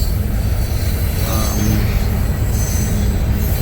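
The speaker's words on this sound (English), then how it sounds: "So we are passing the train, Burlington Northern, and it's a pretty long train." Continuous loud rumble of a long Burlington Northern freight train passing along Highway 14 by the Columbia River, with metallic wheel squeals rising and fading over a roaring, steady background.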